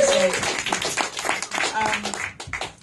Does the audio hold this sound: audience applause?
yes